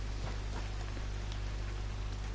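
Steady rain falls in the Red Dead Redemption 2 video game, an even wash of hiss with soft patter throughout and no voices.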